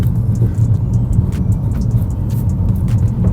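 Interior road noise from a high-mileage BMW E90 328i driving, a steady loud low rumble with a faint tire hiss, no talk.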